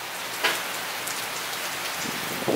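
Heavy rain pouring onto a parking lot, a dense, steady hiss of drops hitting pavement, loud and close with a few sharper splashes.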